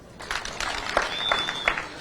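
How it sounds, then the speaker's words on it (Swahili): A rally crowd breaks into applause, a dense wash of clapping close by with a few whistles cutting through and voices mixed into the noise. "Makofi kwa watu."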